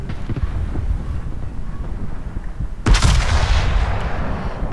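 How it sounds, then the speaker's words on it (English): A warship's main guns fire a salvo in the World of Warships naval battle game, a sudden loud booming blast cutting through steady wind-like background rumble and then trailing off in a long noisy roar. "So I initiated the salvo towards Colbert"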